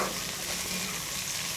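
Egg fried rice with capsicum stir-fries in a pan, a steady close sizzle with faint scraping underneath and no voices.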